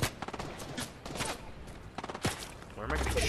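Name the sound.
gunfire in a video game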